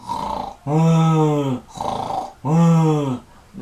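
A human voice imitates loud snoring: two long, rumbling inhaled snores, each followed by a breathier exhale, rhythmic and close.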